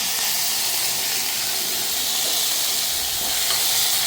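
Steady, dense sizzling hiss of vegetables, including sweet potato, sautéing in a hot pan, continuous and even, with no voices.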